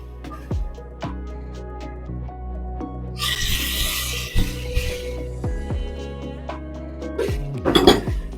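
Pieces of chicken are flipped in a pan with a metal utensil, producing scattered clinks and scrapes plus a burst of sizzling, with no talking.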